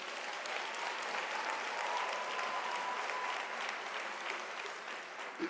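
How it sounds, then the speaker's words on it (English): Graduates at a University of South Africa autumn graduation ceremony applaud, a broad, steady wash of clapping from a large crowd that holds for several seconds before tapering slightly at the end. "Can you give yourself a loud applause?"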